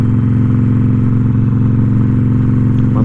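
A motorcycle cruising steadily in second gear on the road behind a truck, its engine a loud, close, continuous mid-pitched drone with a steady pulsing rhythm and light mechanical clatter.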